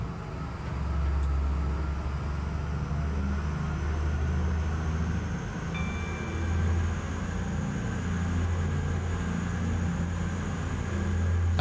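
A train engine running in Train Simulator 20, heard from outside the locomotive on a rickety track: a steady, loud low rumble and drone with a faint high whine, continuous throughout.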